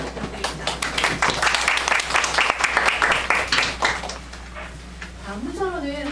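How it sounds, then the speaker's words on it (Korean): An audience at a digital learning festival session applauds a teacher's presentation, with brisk clapping from many hands swelling then fading after a few seconds, followed by quieter room sound and a voice starting to speak. "멋진 발표해주신 문재 선생님께 다시 한번 큰 박수 부탁드립니다"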